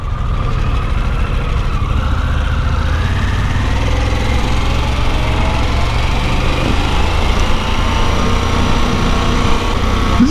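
Harley-Davidson Pan America 1250 Special motorcycle engine running steadily, a constant loud low rumble with a rising and falling whine layered over it, close by and without talk.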